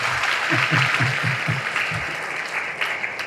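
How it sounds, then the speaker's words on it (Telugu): Applause from a crowd at a political rally, a loud, dense wash of clapping sustained across the whole moment, with a few rhythmic claps standing out near the start. "గట్టిగా చప్పట్లు కొట్టండి ఒకసారి"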